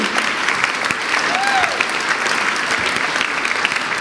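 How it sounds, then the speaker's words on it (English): Steady applause from an audience at a scholarship awards ceremony fills the whole stretch, dense and even, with a brief tonal chirp partway through. "Let's clap for them."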